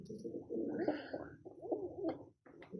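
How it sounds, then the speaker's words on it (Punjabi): Paired pet pigeons coo close by in soft, throaty, repeated rolls, with a brief pause before the cooing picks up again. "ਇਹ ਜੋੜਿਆਂ ਵਾਲੇ ਕਬੂਤਰ ਨੇ"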